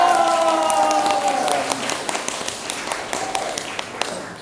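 Small audience clapping for actors after a play, scattered distinct claps that thin out toward the end, with talk and vocal sounds audible early on.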